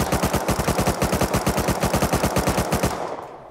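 Sustained full-auto MP5 submachine gun fire in the video game Rust, a loud rapid burst of evenly spaced shots lasting about three seconds before cutting off into a brief fading tail.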